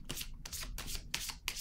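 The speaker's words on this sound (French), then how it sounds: "Je vais piger une autre carte ici." A tarot card being drawn and shuffled in the deck, four or five quick, soft papery swishes and rubs, close and quiet.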